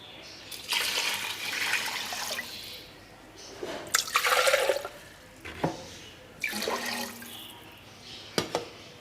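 Water is poured from a cup into a pot holding three cups of rice and salt, in several separate splashing pours with short pauses between them, close and moderately loud in a quiet kitchen.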